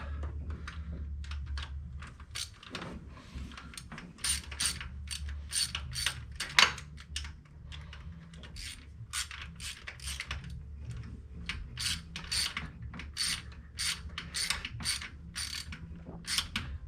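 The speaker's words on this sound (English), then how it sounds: "I'm going to go back and snug these ones up with a wrench." A wrench ratcheting while tightening bolts on the engine of a 1970 Chevrolet C10 pickup: a steady run of quiet, rapid clicks in uneven bursts, close up but faint, with no talking.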